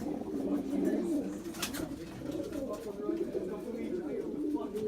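Young pigeons give soft, low cooing in a steady murmur, close and faint, with a brief higher sound partway through.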